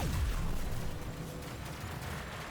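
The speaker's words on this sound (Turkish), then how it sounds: "Silah sesleri, o efektler falan muhteşem." Dense arcade shooter gunfire from the video game CYGNI: All Guns Blazing, a continuous loud barrage of shots and booms layered over game music, with no talk.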